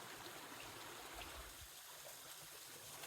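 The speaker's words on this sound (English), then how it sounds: "That's the creek" A Scottish burn in the Highlands between Glenfinnan and Morvich rushes past a campsite with a continuous close-up babble and hiss of flowing water, steady and fairly quiet, with no voices.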